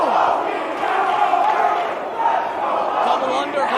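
A wrestling crowd cheers steadily for a New York wrestler, a dense roar of many voices that holds at a constant loud level with no clear breaks.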